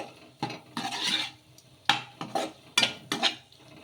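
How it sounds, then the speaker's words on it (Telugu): Whole wheat pasta is stirred in a pan with a spoon in a series of scraping, clattering strokes, several distinct bursts separated by short pauses, close and fairly quiet. "ఒకసారి మళ్ళీ బాగా కలిపేసుకుందాము ఈ పాస్తాకి పట్టేలాగా"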